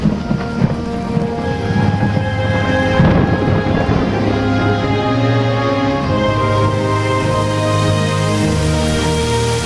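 Continuous rain with a low rumble of thunder swelling around the middle, set under a sustained musical score that runs throughout.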